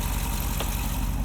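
A 2024 Jeep Wrangler Rubicon 392 Final Edition's 6.4-liter HEMI V8 idles close by with a steady, deep, rhythmic rumble. No voices are heard over it.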